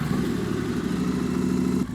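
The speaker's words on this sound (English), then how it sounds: "Fire up the bike." A Triumph liquid-cooled motorcycle engine runs with a steady, close mid-pitched hum that drops away near the end; no voices.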